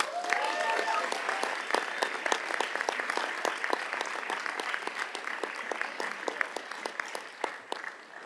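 Audience at a school board meeting applauding award recipients: dense, steady clapping from a room of people, moderately loud and continuous, tapering slightly near the end.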